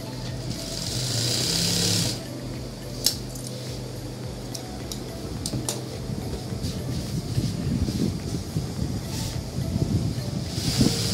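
Sewing machine stitching trouser fabric, a fast rattling mechanical run in bursts with brief stops and clicks, moderately quiet and close.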